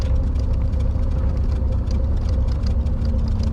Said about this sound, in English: Gives us a nice little sound of the motor, you know, treading itself.